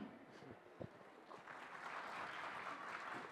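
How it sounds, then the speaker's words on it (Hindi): Dense applause from an audience at a literature festival, rising and filling out after a few scattered claps, steady and sustained to the end. "तो तालियां बजती रहनी चाहिए"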